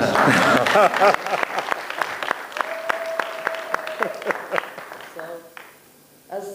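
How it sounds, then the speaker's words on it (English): An audience at al-Quds University applauds during a speech. The clapping starts full, thins into scattered claps and dies away, then a voice resumes at the end. "Do I get an applaud for that?"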